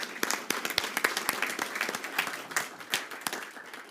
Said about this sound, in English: Give them a little round of applause for those guys.